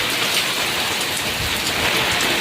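Steady heavy rain falls in a dense, even hiss of drops pattering on surfaces, loud and close with no voices.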